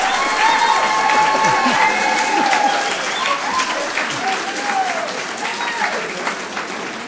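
Audience at a local planning and zoning meeting breaks into steady, dense applause with some cheers and voices mixed in, sustained throughout and gradually easing.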